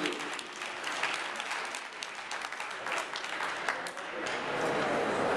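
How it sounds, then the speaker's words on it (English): Audience applause at a legislative Lobby Days gathering, a steady, dense wash of clapping from a sizable crowd that holds at an even level throughout with no break. "Give yourselves a round of applause for what you're doing"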